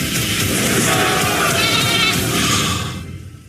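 A goat bleats loudly and close in a film excerpt, one long, wavering bleat over busy background noise that fades out near the end.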